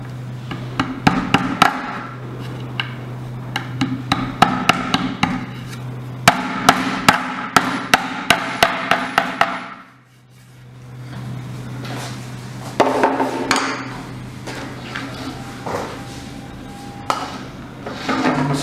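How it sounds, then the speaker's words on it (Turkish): Repeated sharp hammer taps drive plastic dowels into a wooden floor-lamp body: quick close strikes in irregular bursts with a steady hum underneath, a short pause, then more scattered knocks and handling noises. "İyice çaktığımızdan emin oluyoruz."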